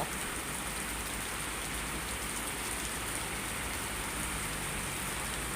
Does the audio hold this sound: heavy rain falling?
yes